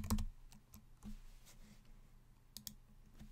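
Keys on a computer keyboard are tapped while a name is typed, giving quiet, irregular clicks with short pauses between them, close and alone.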